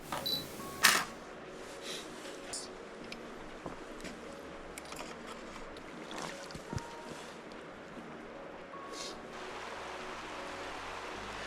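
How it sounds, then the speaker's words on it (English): Camera shutter fires on a two-second timer at a moody mountain lakeside, a single sharp click near the start over a quiet, steady outdoor background. "I'm then going to put the 2-second timer on and fire that shot off."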